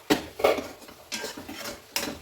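A metal lid is set on a cooking pot of potato, pea and tomato curry. A few sharp clinks and clatters of pot and lid are heard up close over about two seconds.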